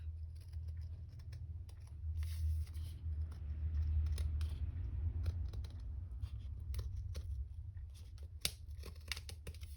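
Scissors cutting paper for a handmade craft notebook, a series of close, crisp snips and rustling paper over a low background hum, with no talk.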